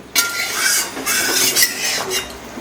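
A metal lid set onto a cooking pan of pumpkin for a rohu fish curry: loud close clanks and scraping metallic rattles that ring briefly, with no talking.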